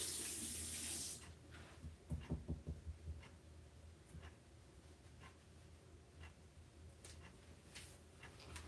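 A tap runs to rinse ink off a rubber stamp at a sink. A loud rush of water fills the first second, then a softer, broken trickle with small splashes carries on to the end.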